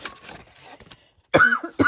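A single sharp cough close to the mic, then a second short burst of coughing after a brief quiet pause.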